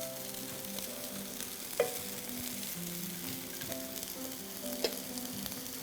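A rainbow noodle mixture fries in a pan and is spread thin around it, giving a soft steady sizzle with occasional scraping taps, quiet, over faint tonal music.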